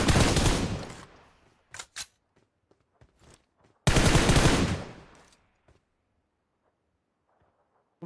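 Two long, loud automatic bursts of rapid gunfire in Minecraft, each lasting over a second and tailing off, with a couple of short shots and faint clicks between them, then near silence.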